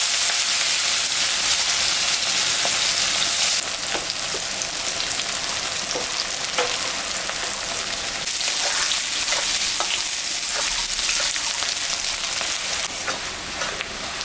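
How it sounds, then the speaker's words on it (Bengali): Garlic cloves and sliced onion sizzle steadily in hot oil with dried red chilli and cumin, a loud, continuous close frying hiss with occasional crackles and pops throughout, no talking. "কয়েকটা রসুন আমি ছাতা করে সম্বরা দিলাম এখন আমি পেঁয়াজটাও দিয়ে দিলাম"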